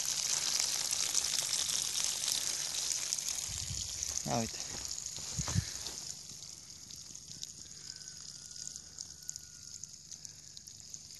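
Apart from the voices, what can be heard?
water flowing from drip irrigation nozzles at goji plants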